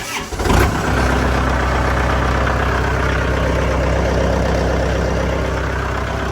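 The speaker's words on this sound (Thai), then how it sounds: "เดี๋ยวสตาร์ทให้เบิ้ง" A Kubota M5000su tractor engine cranks and catches within a second, then runs loud and steady close by. It settles into a strong, even idle with a slight rev that holds for the rest of the time.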